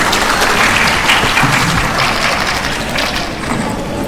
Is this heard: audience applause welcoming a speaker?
yes